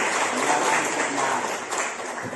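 Applause from a classroom of students clapping together for classmates during a lesson, a steady, dense patter of many hands at moderate distance, lasting the whole stretch without speech.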